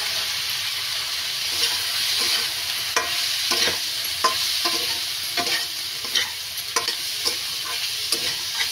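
Pointed gourd (potol) goes into hot spices frying in a pan for a Bengali curry, giving a steady loud sizzle broken by repeated scraping stirs of a spatula, with no talking.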